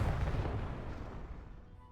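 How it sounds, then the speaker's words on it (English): Explosion in the video game The Outer Worlds 2: a single deep, rumbling boom that is already loud at the start, then fades gradually over about two seconds. "That was a lot less of an explosion than what I thought it would be."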